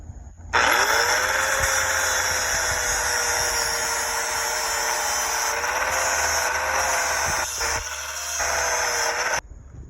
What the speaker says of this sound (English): We have to remove the cheap Chinesium weld off of our bracket by making it flat.